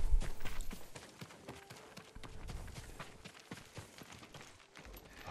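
Hooves of a farm horse in the samurai game Ghost of Tsushima, a busy run of clopping steps near and fairly loud, with game ambience underneath and no talk.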